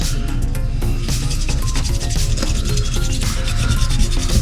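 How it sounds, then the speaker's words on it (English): Brisk, close-up scrubbing of a Holley carburetor body after a spray of cleaner, with steady rough brushing strokes that fill the whole stretch at a loud, even level and carry no talk. "I'm just going to give it a quick dusting and quick scrubbing on this side."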